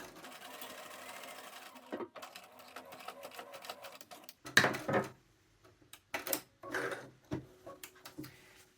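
A domestic sewing machine stitches a diamond hem on trousers in short bursts. The bursts stop and start between pauses, close and moderately quiet, with brief handling noises in between.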